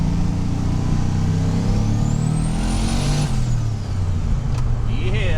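A turbocharged LS-swapped BMW Z3 with a T56 manual gearbox and twin-disc clutch drives off, its engine droning loudly and climbing in pitch with a rising turbo whistle that falls away before a brief sharp hiss.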